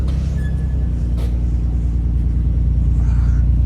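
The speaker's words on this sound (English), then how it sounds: "Titanium exhaust looks good, sounds good." A Nissan R34 GT-R fitted with a titanium exhaust idles with a deep, steady low rumble, loud and close, holding an even throb throughout with no revving and no talking.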